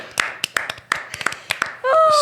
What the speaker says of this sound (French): je crois que ça mérite une main d'applaudissement pour la meilleure histoire qu'on a jamais entendue